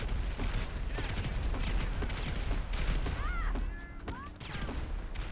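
Rapid bursts of gunfire from a small gun in GTA 5 crackle continuously across the whole stretch, dense and loud, with brief whistling tones near the end and a voice in the game mix.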